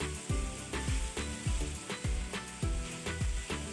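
Mutton liver fries on a tawa, sizzling softly and steadily, while a spatula scrapes and taps the pan in a regular rhythm of sharp knocks about every half second.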